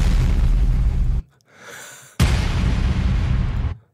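A sample-library explosion sound effect: two loud blasts with deep rumbling bass, separated by a short quieter whooshing gap, each cutting off abruptly.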